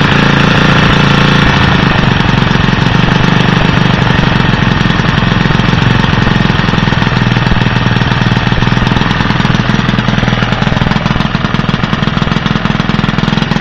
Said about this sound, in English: Once it gets hot, I can actually shut that valve all the way and it'll sit there and idle.